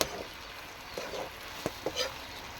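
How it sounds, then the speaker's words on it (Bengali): Taro leaves being stir-fried with spices: a soft continuous frying hiss with a few sharp scrapes and taps of a spoon against the pan. "এবার পুরো মশলার সাথে একদম কচু ভালো করে মানে কষিয়ে নেওয়া হবে"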